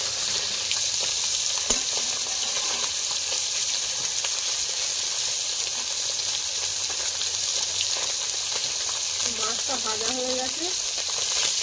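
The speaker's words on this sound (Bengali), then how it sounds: "মাছটা একটু হালকা করেই ভাজলাম" Fish fries in a pan at an outdoor cooking spot, giving a steady, even sizzle that hisses continuously for several seconds at moderate loudness, with brief clinks and stirring noises and no talking.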